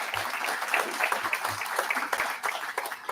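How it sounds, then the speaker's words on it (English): A school board meeting audience gives a tennis player a brief, moderately distant round of scattered clapping lasting a few seconds in a hall. "a nice round of applause for him"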